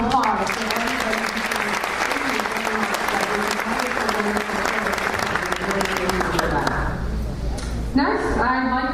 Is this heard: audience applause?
yes